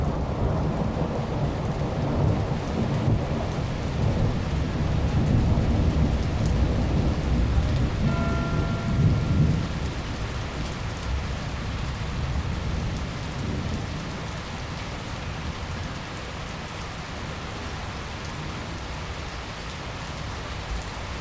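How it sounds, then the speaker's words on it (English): Steady rain pours down with deep rumbles of thunder rolling through, loudest early on before settling into a continuous wash of rainfall, during a thunderstorm near Mount Eiger, Switzerland. "This is a thunderstorm near Mount Eiger"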